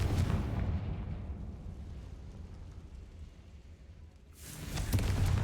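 The Confringo blasting spell from the video game Hogwarts Legacy booms heavily at the start and again near the end, with a low rumble lingering in the quieter gap between the two blasts.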